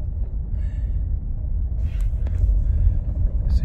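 A Ford Kuga 2.0 all-wheel drive car rolls along a muddy road, its low steady rumble filling the cabin at close range, with faint rattles and a brief knock over the constant drone.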